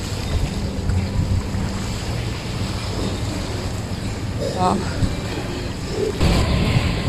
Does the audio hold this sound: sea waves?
yes